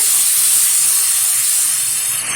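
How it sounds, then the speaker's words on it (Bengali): A paste of ginger, onion, garlic, cumin and dried chilli hisses steadily and loudly in hot oil while being sautéed for a fish curry, a continuous bright sizzle with no talk. "ভালোভাবে মশলাটা তেলের সাথে কষিয়ে নেব"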